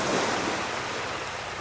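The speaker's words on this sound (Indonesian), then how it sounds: "pantai yang landai dengan hamparan pasir putih nan lembut dan ombak yang tenang" Steady, gentle surf washes onto a gently sloping white-sand beach at Pasir Putih, Southeast Sulawesi, Indonesia, in a continuous rushing hiss, with no talking and a slight wind-like roar.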